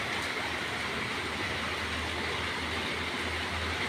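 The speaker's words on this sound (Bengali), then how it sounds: "রাত্রে প্রায় 2:30 বাজে বৃষ্টি শুরু হয়েছে" Night rain after a spell of intense heat, falling as a steady, even broadband hiss that stays constant throughout, with a faint low rumble underneath and no voices.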